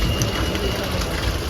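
Heavy rain at Vattavada in the hills pours down as a dense, loud, steady hiss and rumble, with no distinct drops or pauses.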